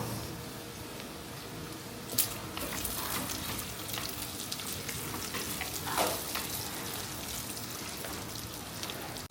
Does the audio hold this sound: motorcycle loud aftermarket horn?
no